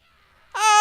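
A cat meows once in a video game, a single short, loud, bright call that rises abruptly out of near silence.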